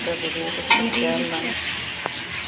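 Food fries in hot oil in a pan, a continuous sizzle with a few scraping stirs and utensil clinks against the pan partway through, heard close up.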